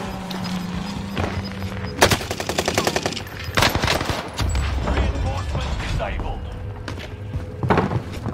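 Bursts of rapid automatic fire from a Marco 5 submachine gun in Warzone on Fortune's Keep, several close volleys mixed with thuds and footsteps, with speech partly over the shooting.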